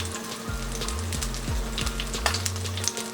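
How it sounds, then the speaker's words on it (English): Steady crackling sizzle of meat frying in a hot skillet, dense and continuous, with a low rumbling hum sliding underneath. "that's what I want y'all to hear, the sizzle before you put the skillet down"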